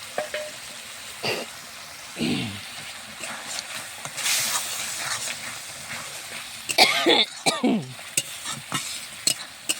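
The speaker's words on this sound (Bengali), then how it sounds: "মশলার ধকে কাশি উঠে পড়ছে।" A cook coughs several times from the pungent fumes of spices frying for a prawn dish, close and fairly loud over a steady background of sizzling and the scrape of stirring.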